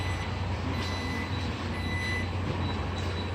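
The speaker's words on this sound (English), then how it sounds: "It's got a little button, closes this gate." The power liftgate of a 2017 Jeep Grand Cherokee Limited closes with a steady motor whir, and a warning tone repeats beneath it.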